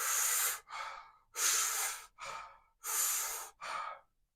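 Rhythmic Wim Hof breathwork demonstration: three cycles of strong, close, rushing inhales each followed by a shorter exhale, steady and paced, with no talking.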